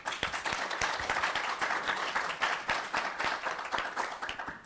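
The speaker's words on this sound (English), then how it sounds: "So please give a round of applause to our distinguished panelists." An audience applauds panelists at a disaster-preparedness seminar in Hawaii, sustained dense clapping at steady volume throughout.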